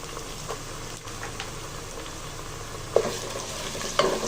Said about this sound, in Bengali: কাঁচা মশলাটা ভালো করে একটু ভেজে নিব।